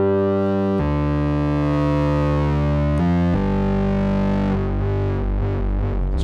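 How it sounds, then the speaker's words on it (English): Sequential Pro 3 synthesizer playing sustained notes with distortion added, a buzzy, harmonically rich overdriven tone changing pitch a few times, loud and steady, ending with a grittier wavering timbre. "So we can get some real, almost sort of guitar pedal type overdrive here"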